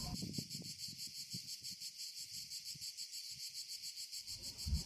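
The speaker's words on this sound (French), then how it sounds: "Vent d'août, le chant des cigales, même le soir." Cicadas singing on an August evening, a steady pulsing buzz that repeats in a fast, even rhythm, fairly faint and continuous with no voices.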